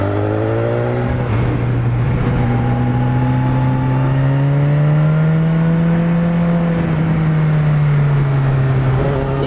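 A BMW S1000RR inline-four motorcycle engine hums smoothly and steadily while riding through mountain roads, with a continuous loud drone that slowly rises and falls in pitch, with no talk.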